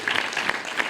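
Clapping from an audience at a village meeting, a steady burst of hand claps lasting about a second at moderate volume.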